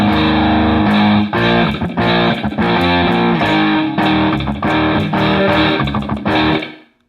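Distorted electric guitar plays the verse of a song in a steady strummed rhythm, loud and up close, with no voices, before ringing out and fading at the end.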